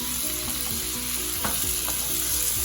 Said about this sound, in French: On va commencer par mettre de l'huile d'olive au fond de notre poêle avant d'ajouter les oignons